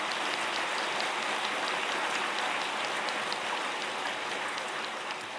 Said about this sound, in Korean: 이럴 땐 큰 박수를 쳐주셔야 돼요.